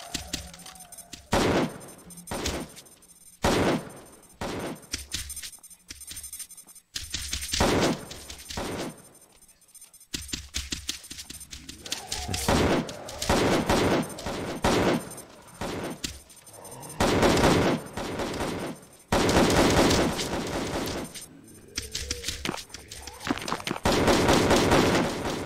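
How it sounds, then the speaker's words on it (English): AK-47 gunfire in Call of Duty Zombies, heard as repeated loud bursts of automatic shots separated by short pauses, with a few longer sustained volleys toward the end. "We're going to use an AK-47."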